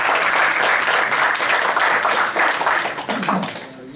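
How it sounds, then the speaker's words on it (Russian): Loud, steady audience applause fills a club presentation for a football team's new logo and kit, dense clapping sustained throughout before tapering slightly at the end. "Ваші аплодисменти."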